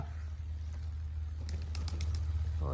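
Pigeons fly down to grain scattered on freshly leveled soil near a cattle shed, with a quick cluster of wing flaps and faint cooing over a steady low background hum.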